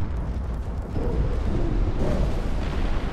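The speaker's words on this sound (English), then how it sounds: "There's the ammo detonation." A warship's ammunition detonates in the naval game Ultimate Admiral: Dreadnoughts, a deep, sustained rumbling blast that rolls on for several seconds, loud and booming with no talk over it.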